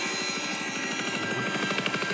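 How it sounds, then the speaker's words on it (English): A helicopter passes overhead with a rapid, rhythmic rotor thump over a steady whine, holding fairly constant and moderately distant, with no speech. "Helicopter."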